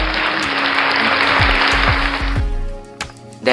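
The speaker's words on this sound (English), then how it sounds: "Next is clap. Palakpak." Applause from a sound-effect pad on a BM-800 condenser microphone sound card: a dense burst of clapping and cheering about two and a half seconds long, cutting off abruptly, followed by a brief faint tail.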